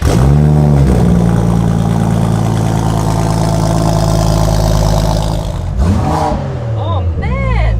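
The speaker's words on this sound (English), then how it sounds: "I think everyone just wants to hear what it sounds like, right? Because we do. The exhaust is on that side." A supercar's exhaust revs hard and close, with sustained loud engine roar and then sharp throttle blips that rise and fall near the end.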